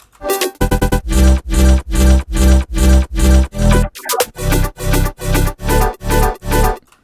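A chopped glitchy sample in a color bass pattern pulses in loud, evenly spaced bass-heavy hits with a buzzy, harmonic timbre, broken by a short stuttering glitch midway before the steady chops resume.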